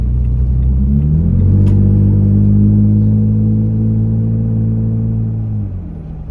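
A Toyota Tacoma with a dual exhaust, warm from driving, rumbles steadily with a deep, loud drone that holds level and then eases off near the end, alone with no talk.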